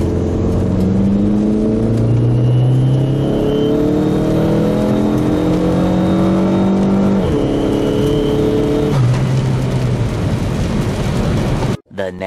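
A car driving in Mexico at dusk, its engine droning steadily and loudly from inside the cabin, with rising and falling tones as it accelerates and shifts gears.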